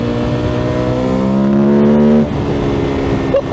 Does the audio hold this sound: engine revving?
yes